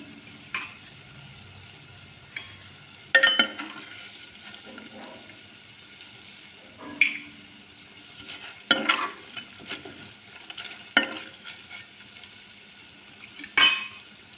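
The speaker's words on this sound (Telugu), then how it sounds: "ఎండ్రాయిలండి చక్కగా వేపుకొని తీసేసుకున్నాం" Quiet hiss of dried prawns frying runs underneath while a spatula scrapes and knocks against the pan every few seconds, with several louder strokes.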